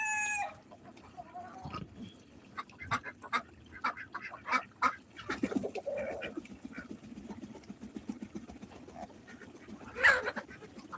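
Flightless Ancona ducks quack in scattered bursts among a backyard flock of chickens, with clucks and a brief crow mixed in, moderately near and intermittent over quiet outdoor background.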